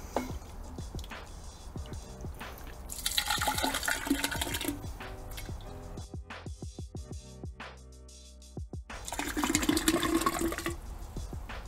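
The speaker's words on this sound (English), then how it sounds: "In the absence of a funnel, I'm just going to use a standard measuring jug and scoop it in." Homemade kvass with bread pieces is scooped with a measuring jug and poured into a plastic bottle, giving bursts of gurgling and splashing liquid between clinks and knocks, all close and unaccompanied by talk.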